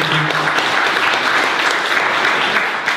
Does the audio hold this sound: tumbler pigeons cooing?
no